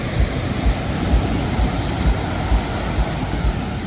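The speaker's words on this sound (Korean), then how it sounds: "파도가 굉장히 셉니다." Strong ocean surf rolls in at Patong Beach in Phuket as a steady, loud, broadband roar with faint repeated swells, heard alone and up close.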